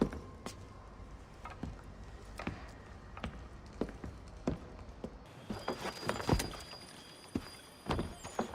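A horse in Assassin's Creed III clops at a steady walking pace, each hoofbeat a distinct close knock, with a brief ambient shift midway and faint background tones.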